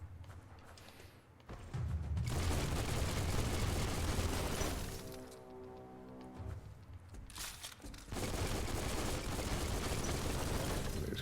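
A gun fires a dense, rapid spray of shots in the Biomutant video game. Loud, continuous bursts are broken by a short quieter gap near the middle, and no one talks.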